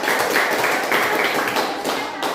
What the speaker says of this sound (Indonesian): kita tepuk tangan buat kelompok